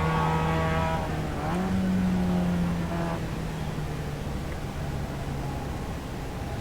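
A race car engine drones at Mid-Ohio as the car heads in to pit, a steady buzzing tone that briefly shifts in pitch early on, then settles into an even hum under wind and road noise.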